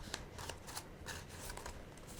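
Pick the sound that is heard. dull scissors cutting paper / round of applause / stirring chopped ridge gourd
dull scissors cutting paper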